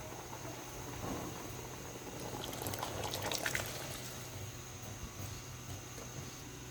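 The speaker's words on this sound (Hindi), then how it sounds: "तो अब हम इसमें ऐड कर देंगे अपने राइस" Soaked, washed rice tipped into a pot of boiling water for chicken rice, a soft pour and splash rising over a continuous bubbling boil, with no talking.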